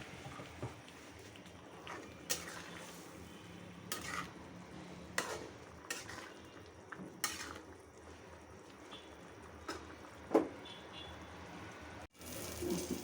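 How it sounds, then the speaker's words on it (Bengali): Aubergine fries quietly in a pan with a faint, soft sizzle, punctuated every second or two by brief scraping stirs of a utensil. "বেগুনটা ভাজা হয়ে গেছে, এখন নামিয়ে ফেলবো"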